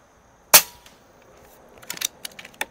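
Air Venturi Avenger air rifle firing JTS pellets at a 50-yard target: one sharp, loud crack stands alone, followed later by a few softer clicks and knocks from handling the rifle.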